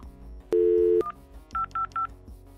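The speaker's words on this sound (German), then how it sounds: "ich glaube, ich rufe Flo einfach an" Phone dialing tones in a Minecraft game: one long steady tone followed by a short blip, then three short evenly spaced beeps, fairly loud and clean over a faint background.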